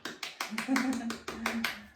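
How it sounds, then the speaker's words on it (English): A Pilates class claps together in a burst of quick, overlapping hand claps lasting a couple of seconds, with a voice murmuring underneath. "Give yourselves a big clap."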